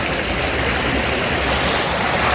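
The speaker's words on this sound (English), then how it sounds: "I don't think you could get these little waterfalls all the way down through here." Small waterfalls tumble along a creek on the Ozark Highlands Trail, giving a steady, full rushing of water that stays even and close with no voices.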